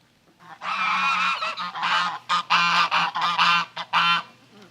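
Geese honking close by beside a water-filled permaculture swale, a loud run of repeated nasal honks in uneven bursts with short gaps, several birds calling over one another.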